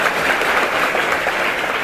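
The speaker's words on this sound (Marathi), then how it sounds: "बाहुबलींसाठी जोरदार टाळ्या." Loud, dense applause fills a hall at a school service-completion felicitation ceremony, a steady close wash of many hands clapping for a performer called Bahubali.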